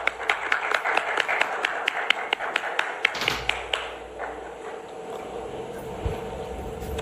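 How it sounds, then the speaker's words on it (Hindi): An audience at an award ceremony claps in a quick, steady rhythm to welcome a guest onto the stage. The clapping lasts about three seconds, then fades into low room murmur. "जोरदार तालियां"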